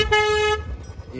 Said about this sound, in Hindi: ये हॉर्न तो आपको हमने दिखाया नहीं अभी तक।